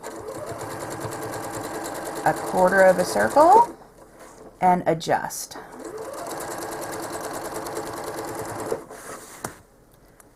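A home sewing machine machine-quilts a Cobblestones Cutie quilt block in short bursts of rapid stitching separated by pauses, close and clear, while someone talks.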